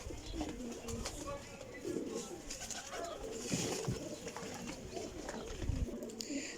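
Pigeons cooing in a loft, soft repeated low coos amid faint bird chatter, with someone talking quietly over them.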